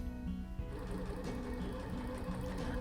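A sewing machine stitching shoulder and side seams on a jacquard jacket, a steady close humming whir with a tonal motor drone, running continuously and alone.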